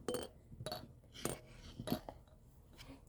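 Several bright, glassy chimes ring out in short bursts from a Pokémon roly-poly figure toy being rocked, a light tinkling repeated four or five times, close and clear.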